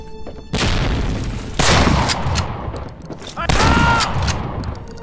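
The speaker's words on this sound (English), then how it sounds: "This shotgun is extremely underwhelming, actually." Shotgun blasts in Medal of Honor: Allied Assault, three loud booming shots spaced a second or more apart, each with a ringing tail, mixed with game sound effects.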